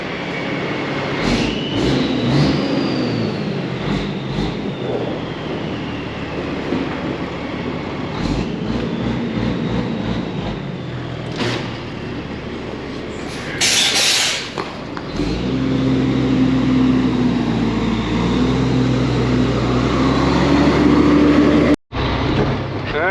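A truck pulls out of a shop and drives off: a steady, loud engine rumble and road drone with a rising whine, close inside the cab, with a brief dropout near the end and no clear speech.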